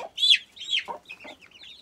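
A one-month-old cockerel chick gives a few short, high, chirpy peeps and clucks in quick succession, close by and fairly soft, with no voices.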